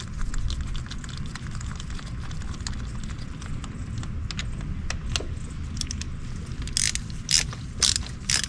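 A ratchet wrench clicks in quick repeated bursts while Honda motorcycle spark plugs are changed for new NGK plugs, with brighter metallic clinks near the end and no talk.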